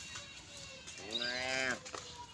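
A single drawn-out moo from a cow in a herd of cattle, rising and falling over about a second, moderately close above a quiet outdoor background.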